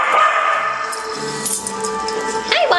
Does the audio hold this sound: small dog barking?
yes